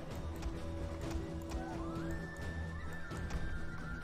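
Horses gallop across a Total War: Attila battlefield in a steady clatter of hooves, with neighs and whinnies over a busy backdrop of game music and distant combat, moderately faint overall.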